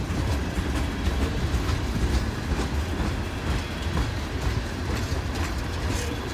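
A train rolls past close by, a continuous heavy rumble with rhythmic clatter of wheels over rail joints, steady and loud from start to finish.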